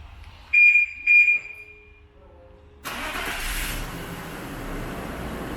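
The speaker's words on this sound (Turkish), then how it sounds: "sağdaki aracımızın uzaktan çalışmasını deneyelim" Two short electronic chirps from a keyless remote, a pause, then the engine of a 2000 BMW E39 cranks and catches, settling into a steady idle close by.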